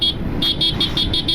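Horn of a Yamaha MT-15 V2.0 motorcycle sounding in a rapid series of about six short, loud, evenly spaced toots, close by with no talking.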